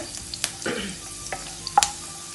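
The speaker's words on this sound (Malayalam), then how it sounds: "അപ്പം നന്നായിട്ട് പച്ചമുളക് വഴണ്ട് വരുന്നുണ്ട്" Green chillies frying in hot oil for a prawn chilli fry, giving a steady close sizzle with scattered sharp pops and crackles and a brief scraping stir.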